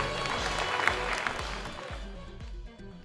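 Crowd at an amateur football awards evening claps warmly for a few seconds, the applause thinning and fading toward the end, with a voice speaking faintly underneath.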